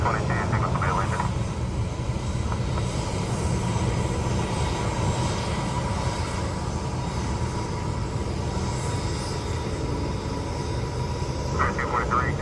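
Jet airliner roaring on the runway at Fort Lauderdale-Hollywood airport during takeoff, a steady loud rumble throughout, with radio chatter heard over it.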